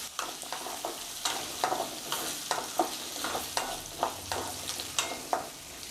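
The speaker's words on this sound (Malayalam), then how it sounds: "ഇതിനി നല്ലതുപോലെ ഒന്ന് വഴറ്റി കൊടുക്കണം." Whole garlic cloves being sautéed in a pan over medium flame, with a steady sizzle and repeated rhythmic spatula scrapes and stirs, close and fairly quiet.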